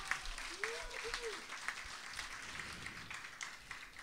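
Audience applause fills a Danish village assembly hall during a live anniversary comedy show, a steady, fairly faint wash of clapping with voices mixed in.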